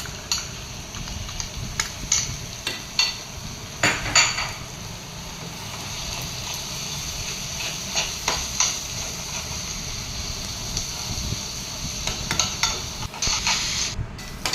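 Ginger, garlic and coconut masala paste fries in a pan with a steady low sizzle, while a spoon stirs and scrapes, knocking against the pan in irregular clusters of sharp clinks.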